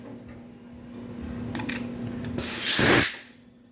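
An air compressor hums steadily in a workshop during reassembly of a 1958 Oliver 550 diesel engine, then a loud, hissing blast of air bursts out briefly near the end before dying away.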